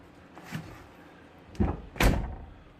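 Door of a 1999 Chevrolet Tahoe truck being opened and shut: a soft latch click, then two heavy metallic thumps close by, the last the loudest, with no talk over them.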